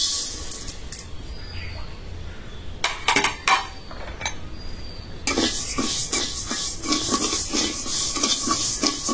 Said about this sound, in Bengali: এই যে মাসকালাই ডালটা ভেজে নিব।